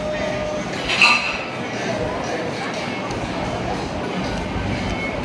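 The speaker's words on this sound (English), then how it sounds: "So Santa, cheers, let's give it a go." Glasses clink once in a toast over a small Guinness-like drink with ice at a restaurant in Buenos Aires, a bright short chime standing out against steady background chatter and room noise.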